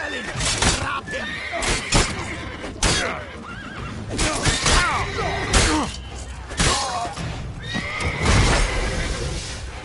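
Horses neigh and whinny repeatedly amid thumping hooves and clatter in a busy battle in The Witcher 3: Wild Hunt, with voices talking over it.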